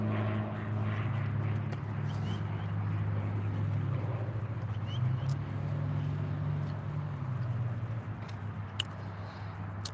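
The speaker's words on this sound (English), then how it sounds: "There's a plane going" An airplane passes overhead on a summer day at a lagoon in Alaska, a broad, steady rumble that holds evenly from start to finish with faint outdoor noises on top.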